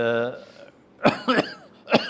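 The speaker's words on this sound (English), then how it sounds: "you'll have to excuse me, I will do less of the talking because of my cough" A man coughs in a few sharp, close bursts spread across a couple of seconds, following a brief voiced sound, in a quiet indoor setting.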